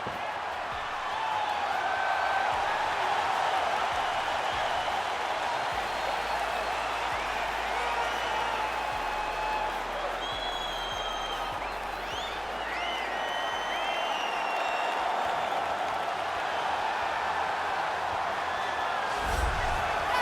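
A sold-out arena crowd at the UFC 290 flyweight title fight, a broad steady roar of cheering and scattered whoops, with a commentator talking over it.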